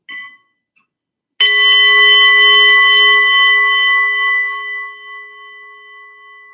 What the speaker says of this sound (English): I'm going to ring this gong and listen to the sound as long as you can hear it